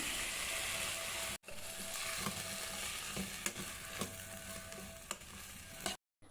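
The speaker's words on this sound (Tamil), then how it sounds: "இப்போ நறுக்கிய முருங்கைக்காயும் சேர்த்து நன்றாக வதக்கிக்கலாம்." Steady frying sizzle from a pan, with repeated scraping and clicking as chopped drumstick pieces are stirred and tossed, close and continuous.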